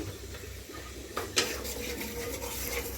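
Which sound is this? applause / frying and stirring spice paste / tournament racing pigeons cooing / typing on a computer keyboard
frying and stirring spice paste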